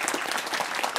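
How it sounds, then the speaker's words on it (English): Studio audience on a TV quiz show breaks into applause for child contestants, a dense burst of clapping throughout the second, close and loud. "Round of applause for the children."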